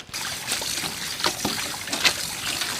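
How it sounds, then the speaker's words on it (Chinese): Pork stomach being rinsed repeatedly under clean running water, a steady close trickle and splash with brief sloshing bursts as the tripe is handled, no voices. "用清水反复的冲洗"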